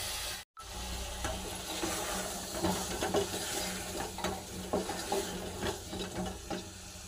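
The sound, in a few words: potatoes frying in spiced oil in a pan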